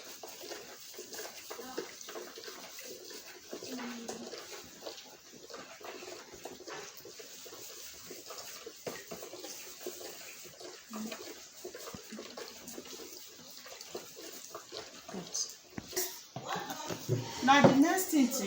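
Water is poured to mix soap, a faint running splash that continues under a person talking and grows louder and more agitated toward the end.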